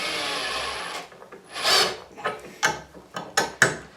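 A cordless drill grinds and ratchets against a metal padlock while pulling its core, a sustained whir followed by several sharp bursts and clicks as the tool strains.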